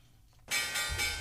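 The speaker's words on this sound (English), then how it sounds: "time for the Morning Bell with Stephanie Bell" A bell chime marks a morning radio show segment on 93.9 The Eagle, striking suddenly and ringing on brightly and loudly with a sustained shimmering tone.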